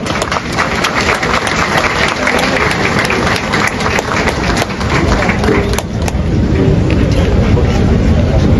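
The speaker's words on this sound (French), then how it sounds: "Applaudissements." A large crowd at a police graduation ceremony for hundreds of new officers applauds loudly and continuously, a dense wash of clapping that swells slightly toward the end.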